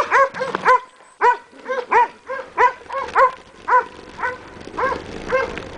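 The neighbour's dogs bark outdoors in a quick run of about a dozen loud, sharp woofs, coming in uneven bursts with short gaps and no talking.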